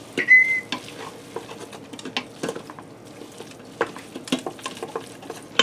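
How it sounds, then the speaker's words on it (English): Chili seasonings stirred in an Instant Pot, a quiet sizzle beneath repeated scraping and tapping of a spoon against the pot, irregular strokes close by with no talking. "Let me give this a quick stir."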